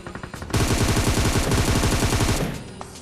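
Rapid, loud automatic gunfire from a shotgun in PUBG Mobile, a dense burst of shots lasting about two seconds close up, then fading.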